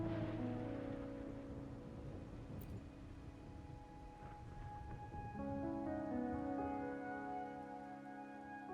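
Steady rain falling in the video game Wuthering Waves, a continuous soft hiss of drops with low rumbling undertones and sustained musical tones layered over it, no voices.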